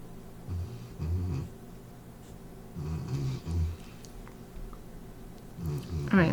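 Someone nearby snores in low, rumbling bursts, several spaced breaths with pauses between them, faint and partly buried under background noise.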